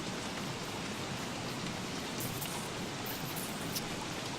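Steady, dense rainfall in the survival game Don't Starve, a constant hissing patter of drops at even loudness throughout, with no voices over it.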